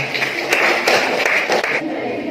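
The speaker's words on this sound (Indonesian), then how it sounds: "Tepuk tangan untuk Reni dulu." A school classroom of students clapping for a classmate, a moderately loud burst of scattered applause lasting about two seconds before tapering off, with some voices mixed in.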